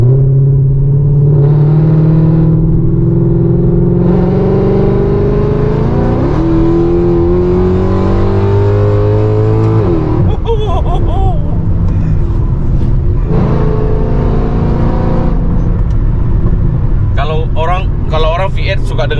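A Mercedes C63 AMG with a 6300 cc V8 pulls on a toll road. Its deep engine note rises through the gears with audible shifts, heard from inside the cabin under people talking.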